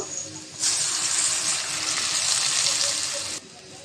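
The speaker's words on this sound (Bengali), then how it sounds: "পেঁয়াজটা বাজা হয়েছে অল্প একটু পানি দিয়ে দেব" A little water splashed into chopped onions frying in oil in a pan for a mixed-fish curry sets off a sudden loud, steady sizzling hiss that lasts about three seconds and then cuts off, with no talking.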